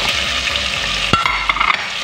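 Chopped onion and garlic tipped into a pan of frying chicken, a steady loud close sizzle with a sharp clatter of stirring partway through.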